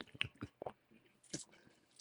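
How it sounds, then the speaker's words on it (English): Close, intimate slurping and squishy mouth sounds of someone sipping vodka right up against a microphone, a few short wet bursts spaced over two seconds with quiet gaps between. "It makes that slurping that damn vodka down sound good."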